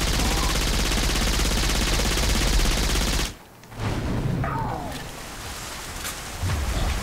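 Two guns fire together in the Saints Row 4 video game, producing a dense, roaring stream of rapid shots that breaks off briefly and then resumes. The firing is loud and close.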